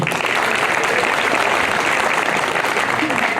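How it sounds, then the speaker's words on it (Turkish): Strong, sustained applause from an audience at a gathering, dense and steady throughout at close range. "kuvvetli bir alkış istiyorum"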